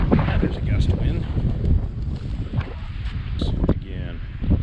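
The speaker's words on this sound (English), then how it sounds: "And there's a gust of wind" Outdoors at a building site with a drain field, a gust of wind buffets the microphone in a steady roar and rumble, with a few faint rustles and bumps through it.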